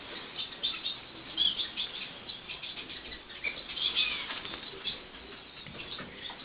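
A Gouldian finch being handled during show preparation, brief soft wing flutters and faint chirps coming in small bursts at close range over a low background hiss, with no talk.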